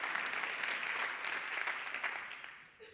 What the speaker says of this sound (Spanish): Va el aplauso por Edison.